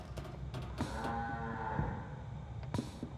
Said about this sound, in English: Was that a bloody cow?